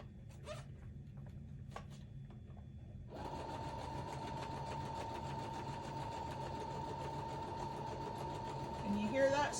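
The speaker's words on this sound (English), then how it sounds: "Can you hear that sewing machine humming away?" A sewing machine runs a stitch, its steady mechanical hum starting a few seconds in and continuing evenly and close by until the end.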